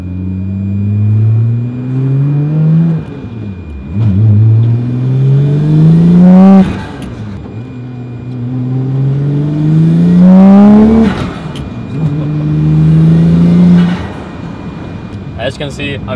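Engine of a friend's double-clutch car revving repeatedly as it pulls away and shifts through gears, rising pitch sweeps near and loud, with talk over parts of it.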